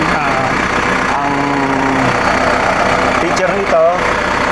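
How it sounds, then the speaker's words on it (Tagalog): A 102-horsepower Massey Ferguson 5710 tractor idling nearby, a loud, steady mechanical rumble that runs throughout under someone speaking. "Itong traktora ay 102 horsepower, model Massey Ferguson 5710."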